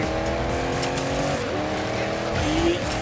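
Porsche Cayenne racing through mud in the off-road game Dirt 5, a continuous engine drone with shifting pitch and a brief tire squeal near the end, loud and steady throughout.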